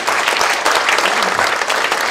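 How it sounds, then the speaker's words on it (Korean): Dense, steady applause fills a lecture hall as an audience welcomes a Buddhist monk speaker at a public forum, sustained without pause. "여러분 뜨거운 박수 부탁드립니다."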